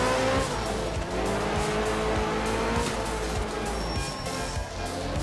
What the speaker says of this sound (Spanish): el coche, el problema que tiene es que es muy potente